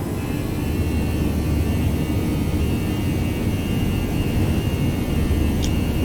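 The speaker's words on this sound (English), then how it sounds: "We're doing a full power takeoff because we're heavy." Airbus A319 jet engines at full takeoff power in X-Plane 11, a loud steady roar with a thin whine running through it, continuous and unbroken with no talk.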